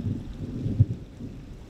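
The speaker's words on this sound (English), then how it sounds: "The thunder is still rolling" Thunder rolls during a storm as a low, muffled rumble with one heavier thump partway through, over a wind-like wash.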